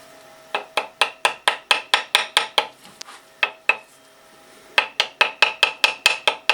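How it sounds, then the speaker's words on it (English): Sharp metallic ball peen hammer strikes on metal ring out in quick rhythmic bursts, about a dozen in a row, a short pause with a few scattered hits, then another rapid run. "Use the peen of the ball peen hammer."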